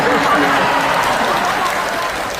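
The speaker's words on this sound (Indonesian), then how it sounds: "Tepuk tangan karena merasa bersalah kok." Audience applause during a Valentine's Day sermon, a steady, fairly loud wash of many hands clapping with crowd noise mixed in, continuous throughout.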